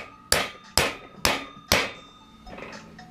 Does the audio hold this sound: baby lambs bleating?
no